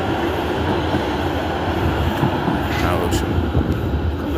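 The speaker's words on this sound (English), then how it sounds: "I'll not cross in front of that tram." A tram rolls past along a city street, a steady broad rumble of wheels on rails with faint high squeal, loud and close throughout, with occasional voices in the background.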